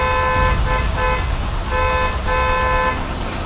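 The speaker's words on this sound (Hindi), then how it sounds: "क्या बेकार में हॉर्न मार रहा है?" A loud horn honks repeatedly in long blasts over heavy road traffic and engine rumble, close by.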